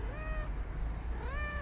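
A cat meows twice outdoors, two rising-falling calls close by over a low rumble of background noise, with no talk over them.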